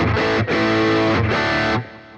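Heavily distorted high-gain electric guitar chords through a Boss GX-100 ring out loud, with a wash of reverb trailing behind each strum and decaying after the last one.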